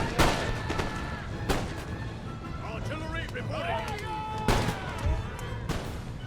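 Round shot booming from artillery batteries in Empire Total War, with several heavy, loud cannon blasts spaced a second or more apart under steady talk.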